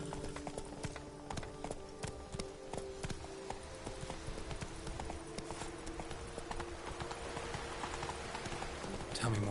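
Horse hooves clip-clop steadily in the Witcher 3 video game, a brisk even rhythm of clear strikes that carries on throughout with no speech.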